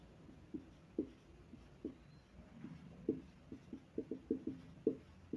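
Pen writing on paper while working through a differentiation maths exercise, heard as faint, close, irregular taps and short scratches spread across the moment in a quiet room with no talk.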